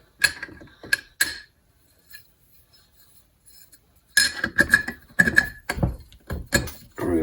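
Metallic ratcheting and clinking from a wrench tightening a homemade block-off sealing plate with washers on the studs of a Mercury two-stroke outboard, in short close bursts separated by quiet pauses.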